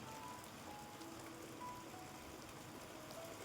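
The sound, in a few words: rain falling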